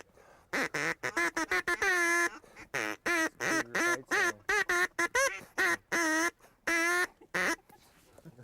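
Ducks quack loudly and up close during a morning duck hunt from a floating blind, sounding in long, rapid series of harsh quacks with brief pauses between bursts.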